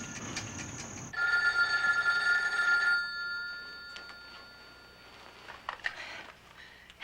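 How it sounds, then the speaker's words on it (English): An indoor telephone bell rings once in a loud, sustained trill that lasts a couple of seconds, followed by quieter room sounds. "Oh, let me get the phone."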